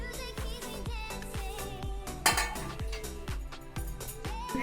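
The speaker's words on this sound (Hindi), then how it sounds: "अब लास्टली मैं नमक डाल के अच्छे से मैं इसे मिक्स करूंगी" A spoon rapidly clinks against a bowl while mixing salt into egg paratha filling, a brisk, regular run of close metallic taps, about three strokes per second, with a brief louder clatter midway.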